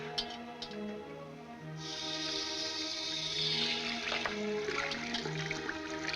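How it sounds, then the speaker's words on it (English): Water from a tap gushes and splashes over a hand held beneath it, starting after a quiet moment and growing into a steady rushing spray under a sustained musical score. "Hold your hand under the water."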